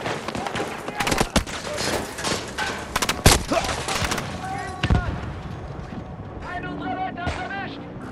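Battlefield 2042 event-mode battle with repeated loud gunshots and bursts of rapid fire, sharp cracks and booms scattered throughout, while German-speaking voices talk over the combat.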